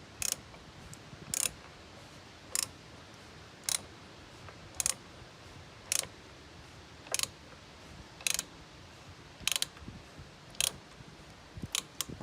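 A wrench with a 27 mm socket tightens a Peugeot 208 oil filter housing during an oil change, giving about a dozen sharp ratchet clicks at an even, unhurried rhythm over a faint background, close by.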